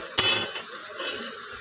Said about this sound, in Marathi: तेलात हलवते जरा